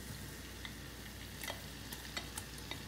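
Garlic fries in melted butter in a pan before shrimp goes in, a soft, low crackling sizzle with a few small pops and stirring scrapes, faint and close.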